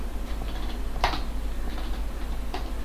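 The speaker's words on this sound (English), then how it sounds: "for example I am typing here" Keys on a computer keyboard are typed in a quiet room, soft close clicks scattered across the moment with a couple of sharper keystrokes, over a low steady hum and no talk.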